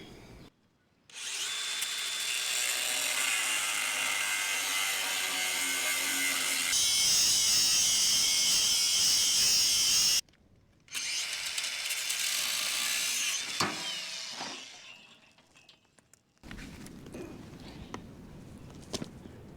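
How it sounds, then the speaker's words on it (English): Power tool cutting through a weld joining pipe on a steel trailer frame and axle, a loud sustained grinding whine that pauses briefly, resumes, then sputters out, followed by quieter metallic clatter. "I'm gonna see if I can cut this weld and see if I can get this back axle separated"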